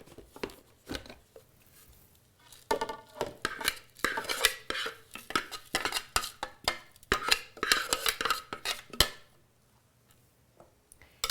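Ingredients are stirred into a burger mixture in a bowl, with bursts of clinking utensil-on-dish scraping and knocking in an uneven rhythm, close and fairly loud, and brief quiet gaps between.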